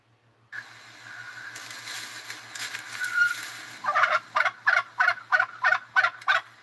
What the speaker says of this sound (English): It'll probably go cluck, cluck, cluck.